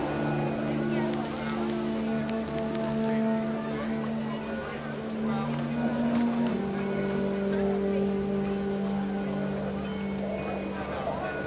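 Rain falling in What Remains of Edith Finch, a steady wash of rain hiss over a droning hum and soft tonal music, continuous and moderately loud, with a voice speaking over it.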